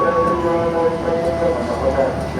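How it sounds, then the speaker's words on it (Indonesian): A KRL Commuter Line electric train pulls out of Cibinong station, giving a steady loud rumble with tonal motor whine and rail noise throughout, close by. "lalu kereta kembali melanjutkan perjalanannya"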